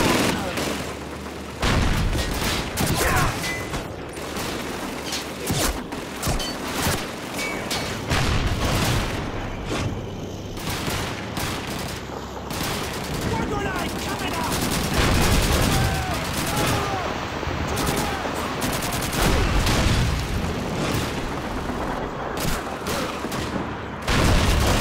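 An MG42 machine gun in the Xbox 360 game Call of Duty 2 fires in long, rapid bursts, mixed with scattered gunshots and heavy booms of battle throughout, loud and close.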